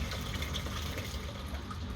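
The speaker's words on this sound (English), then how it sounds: "I'm going to just pour the water out" Water poured out of a container holding germinating lotus seeds beside a pond, a steady close splashing gush for two seconds with no talk.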